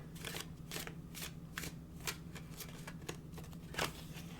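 Tarot cards are shuffled in quick, soft riffling bursts that come at an uneven rhythm, close by, over a low steady hum.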